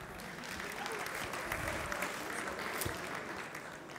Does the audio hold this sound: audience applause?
yes